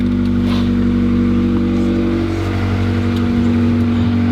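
A 1994 Honda Accord wagon engine with an exhaust leak runs loud and steady, heard close with a deep, continuous drone and no talking.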